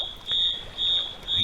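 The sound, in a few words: alarm going off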